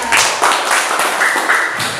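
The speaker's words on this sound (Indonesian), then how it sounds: "tepuk tangan untuk kita semua" Students in a classroom clap in a steady rhythmic pattern of about eight distinct group claps, loud and close, with no talking over them.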